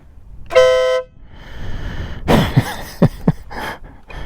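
Horn on a BMW R 1250 GS TE motorcycle gives one short, bright beep, followed by a few loud clicks and knocks close by; no one talks.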